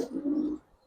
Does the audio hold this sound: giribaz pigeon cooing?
yes